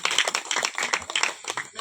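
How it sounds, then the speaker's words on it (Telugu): Guests clapping at a child's first birthday cake cutting, a close, lively burst of many hands with irregular rhythm and no talk. "మరొకసారి గట్టిగా చప్పట్లు కొడతామా?"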